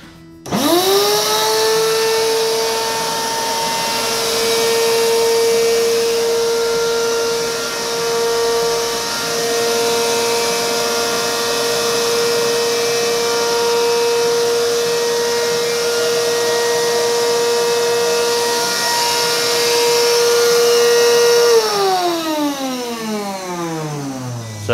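A vacuum motor used for a DIY silkscreen exposure box runs loud and steady for about twenty seconds after a quick spin-up, its pitch holding level before winding down at the end, with no one talking.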